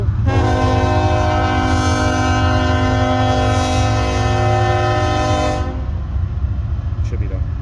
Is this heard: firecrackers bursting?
no